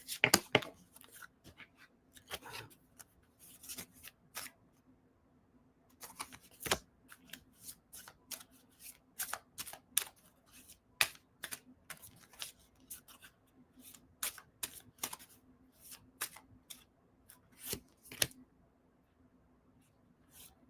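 Oracle-style healing cards are shuffled and riffled by hand in close, soft bursts of crisp flutters and taps, pausing between rounds in a quiet room.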